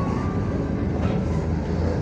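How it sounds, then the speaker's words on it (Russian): Low, continuous engine rumble and rattling road noise from inside a moving MAZ 105.465 city bus in Molodechno, steady and fairly loud with no voices. "Автобус рухается до автовокзала."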